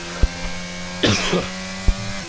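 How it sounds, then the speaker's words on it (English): A race commentator for the Bahrain GP round of the CRC II series gives a single short, rough cough close to the microphone, over a steady engine drone with a couple of sharp clicks nearby. "If you do hear me cough, I'm still ill."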